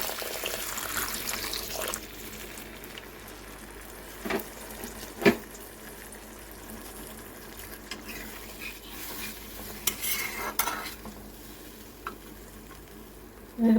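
Hot water pours into a pan of simmering bhola fish jhal gravy, a steady hissing sizzle and liquid stir running throughout with a few sharp clinks of utensil against the pan, no voices.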